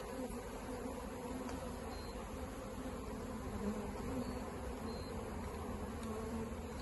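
Honeybee swarm being shaken into a hive, a continuous soft buzzing drone of many bees close by, steady and even with no voices.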